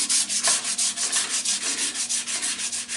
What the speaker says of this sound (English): I'm going to clean up the two ends with sandpaper